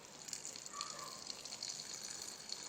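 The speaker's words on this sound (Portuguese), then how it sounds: "Vamos abrir a tampinha e vamos colocar um pouco de água." Water gushes steadily from a small container into a plastic bottle being filled as a homemade terrarium, a continuous hissing pour lasting a few seconds.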